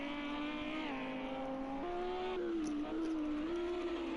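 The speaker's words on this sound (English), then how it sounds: "Is that a car pulling off the circuit or pulling further ahead?" Race car engine in a sim racing game on the Barcelona National circuit, a steady loud tonal whine shifting pitch through gear changes as the car drives close by, continuous with no talk.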